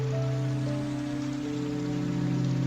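Steady rain falls as a soft, even hiss behind a scene from a marriage proposal film, joined by a low sustained musical drone.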